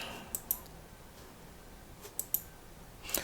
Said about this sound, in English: you click on this new document